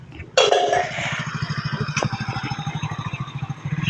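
A motorcycle engine putters at low speed in a steady, pulsing chug, with a brief burst of noise at the start.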